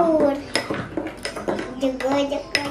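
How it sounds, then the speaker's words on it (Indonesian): A spoon stirs dalgona coffee made from instant coffee and sugar in a glass, giving repeated light clinks and scrapes in an irregular rhythm close by, while someone talks underneath. "Kita aduk dulu sampai rata."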